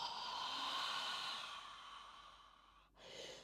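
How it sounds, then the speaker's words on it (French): A long, steady breath pushed out through the mouth during a yoga flow, close and soft, fading after a few seconds before a shorter second breath begins. "Expire par la bouche."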